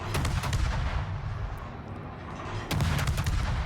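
Main battery salvos from the USS Burrows in World of Warships, heavy booming artillery fire rolling continuously with a fresh loud volley near the end, no talk.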